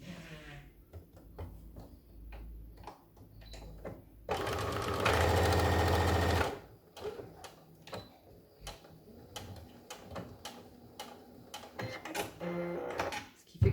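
A domestic sewing machine makes an automatic start on a fabric face mask, several seconds of loud, steady motor whirring between stretches of quiet ticking, clicks and handling sounds.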